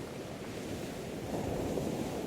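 Gentle ocean waves wash steadily onto a beach, a soft broadband hiss of surf that swells slightly louder toward the end, continuous and unbroken with no voices.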